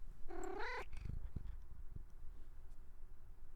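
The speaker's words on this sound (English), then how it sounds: "She's the most vocal cat I've ever met in my life." A housecat gives one rising, drawn-out meow, close and clear, then goes quiet. After it comes soft low rumbling and a few light thumps over room noise.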